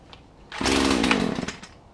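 A Poulan Pro chainsaw on choke gets a pull of its cord, and the engine catches with a sudden loud, rough burst of running that sputters and fades after about a second, nearby.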